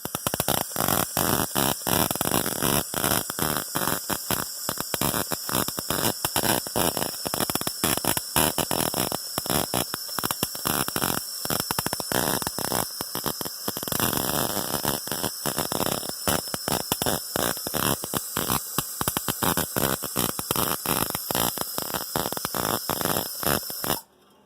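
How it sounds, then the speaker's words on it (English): Welding during rust repair on a 1998 Jeep Grand Cherokee, a loud, steady crackling buzz that runs unbroken for about twenty-four seconds and cuts off at the end, with no talking. "Always wear eye protection when you're welding."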